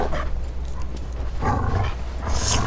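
Enemy dog in the Dark Souls 3 Ashes of Ariandel expansion, barking and snarling in a few short bursts over a steady low game rumble, fairly close, with a brief high hiss near the end.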